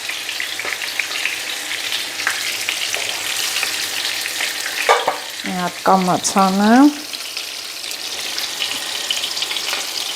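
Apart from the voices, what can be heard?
cutlets frying in oil in a pan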